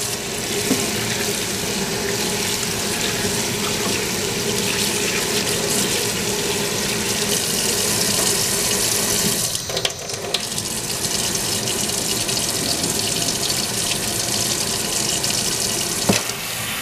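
A tap runs steadily and close for rinsing, a loud unbroken rush of water with a brief dip midway as the flow is disturbed.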